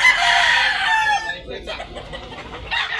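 Roosters and chickens at a fowl market in Talisay, Tabunok: a loud, close rooster crow opens, then clucks and scattered bird calls follow with faint voices in the background.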